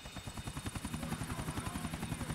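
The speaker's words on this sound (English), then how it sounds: "I actually really don't mind flying choppers." A helicopter flown in GTA IV: The Ballad of Gay Tony thuds with steady, rapid rotor beats over a loud continuous engine whine, close and alone with no talking.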